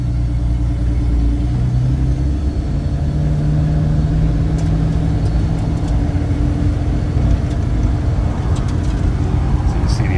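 Steady mid-pitched engine rumble from a 1951 Nash Healey convertible cruising around the block, heard from inside the car at a constant even level with no speech in this stretch.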